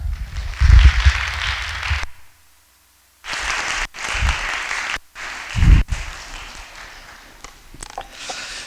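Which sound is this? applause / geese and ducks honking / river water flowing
applause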